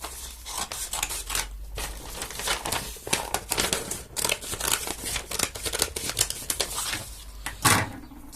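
Scissors snip out folded paper for DIY paper fighting gloves, with repeated crisp cuts and crinkling paper rustles throughout, close up and without talk.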